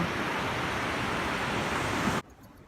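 Ocean surf rushes onto a beach as a broad, loud, steady wash of noise with wind mixed in, cutting off abruptly near the end.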